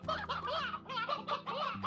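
Chickens and a rooster in the Slime Rancher video game: a close, busy run of clucks and squawks in quick bursts, loud and continuous across the moment.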